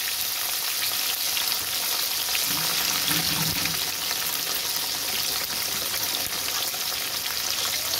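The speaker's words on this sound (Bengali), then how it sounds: "মাছগুলো আমি বেশি ভাজবো না, শুধু এপিট করে তুলে নেবো।" Small rohu fingerlings fry in hot oil, a loud, steady, dense sizzle and crackle that fills the whole stretch, with a brief soft stir partway through and no talking.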